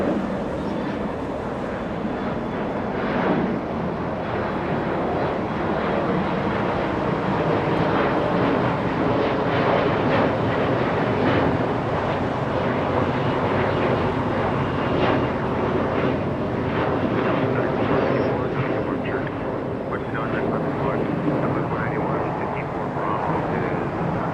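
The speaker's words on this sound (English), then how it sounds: "A departure little SkyWest. Flying to Santa Rosa," A small SkyWest regional airliner roars steadily while departing Los Angeles International Airport, its broad engine rumble continuous throughout, with a voice talking over it.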